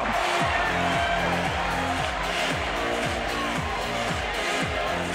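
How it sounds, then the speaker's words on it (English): A loud, dense crowd roars and cheers continuously at a live professional fight between Kevin Belingon and Koetsu Okazaki, a steady wash of arena noise with a rhythmic low pulsing underneath. "Listen to this crowd."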